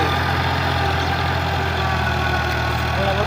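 A tractor engine runs steadily on a farm field, a loud continuous diesel drone with a low throbbing hum, close and unbroken, with no talk.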